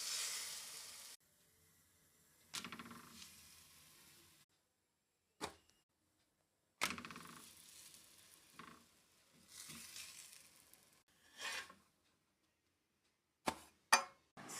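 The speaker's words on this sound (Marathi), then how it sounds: "त्यात मी लसूण कांदा टाकला आणि आता मी परतून घेते" Garlic and onion frying in a kadhai, with intermittent bursts of sizzling and clinks of a utensil against the pan, separated by silent gaps, quiet and close.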